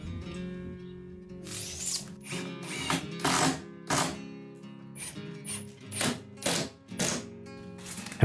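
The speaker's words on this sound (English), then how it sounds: "Since the inside of both cabinets will be hidden, I screw them directly from the inside." Screws driven from inside a wooden shoe cabinet with a power driver, heard as a series of short whirring, rattling bursts separated by brief pauses over a steady background hum.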